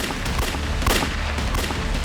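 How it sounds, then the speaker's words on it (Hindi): Gunfire in a Hindi TV crime drama, a loud, dense barrage of shots and booms over a constant roar, continuous and close for about two seconds with no talk. "क्या फायरिंग?"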